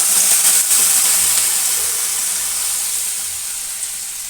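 Water poured onto sizzling fried potatoes in a pan with turmeric, a loud steady steam hiss that slowly fades, with no speech.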